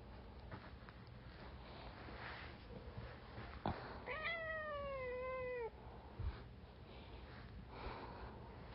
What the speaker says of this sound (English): I can hear my cat in the background of the voiceover.